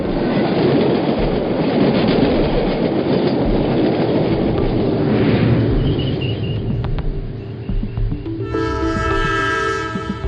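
At a railway station platform, a train rumbles past with loud, close clattering wheels, then a long, sharp horn blast sounds near the end.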